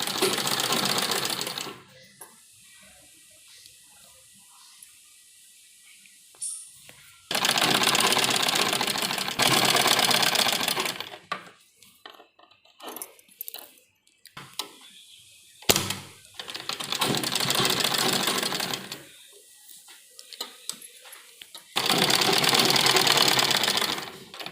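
A sewing machine stitches the hem of a pleated frock in several bursts of steady, close whirring, separated by quiet pauses filled with fabric handling and small clicks.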